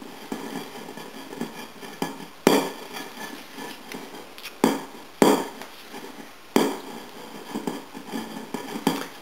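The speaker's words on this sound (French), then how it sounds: "Ensuite, on ajoute le miel. Vous mélangez à nouveau." Spoon or whisk repeatedly knocks and scrapes against a bowl while honey is stirred into a thick gingerbread batter with orange or mandarin juice, with several sharp clinks standing out over a steady stirring rustle.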